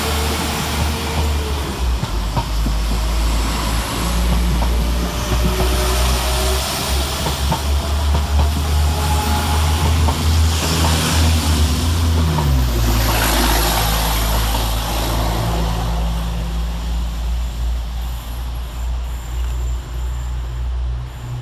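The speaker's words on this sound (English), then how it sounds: "So we'll get started here at Cradley Heath with 172-336 and 172-345. Departing 10 minutes late" West Midlands Railway Class 172 diesel multiple units 172-336 and 172-345 pull away from Cradley Heath station, a loud, steady low engine drone that swells and shifts pitch as they depart, continuous for the whole stretch with no talk.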